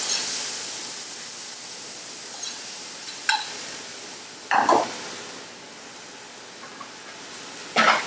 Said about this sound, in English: At this point, we add our cooked lentils. We stir those around.